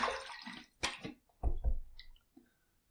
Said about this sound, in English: Just let me splash my face one more time